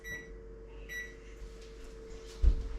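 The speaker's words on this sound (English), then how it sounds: "I'm going to use the Microwave's Kitchen timer" Two short electronic beeps about a second apart from a microwave's kitchen timer, over a steady hum, followed by a soft bump.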